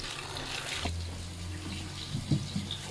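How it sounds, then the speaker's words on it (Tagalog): A taro stalk being washed under running water, a steady close rush of flowing water with a low hum and a few splashy handling knocks near the end. "So, huhugasan ko na yung kanyang tangkay."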